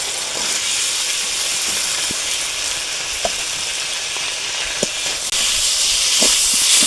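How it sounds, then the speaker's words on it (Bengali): Potatoes fry in a spiced masala together with pre-fried fish roe and fish pieces for a large boal fish curry. A loud, continuous sizzle hisses throughout, broken by a few faint stirring clicks, with no talk. "মশলাটা কষানো হয়ে গেছে মশলার উপর দিয়ে দিয়ে তেল ছেড়ে গেছে ভেজে রাখা বয়ে কষি আর এই যে আলুটা দিয়ে দিই"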